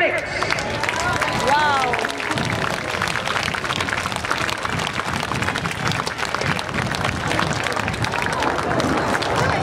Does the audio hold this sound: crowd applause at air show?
yes